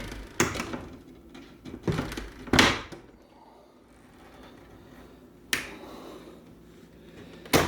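Sharp pops and cracks from vinyl siding and vinyl trim board on an outside house wall, a handful of loud isolated snaps spaced a second or more apart against a quiet background.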